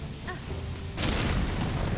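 A booming explosion bursts out in Hollow Knight: Silksong, a sudden loud blast at about one second that rolls into a dense, sustained rumble, preceded by a faint ringing chime.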